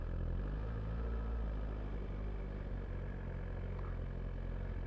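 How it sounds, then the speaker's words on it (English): A brand new motorbike pulling off uphill, its engine giving a steady, low, fairly quiet hum throughout with no sharp revving and no talking. "Always good to start uphill, isn't it? On a brand new bike."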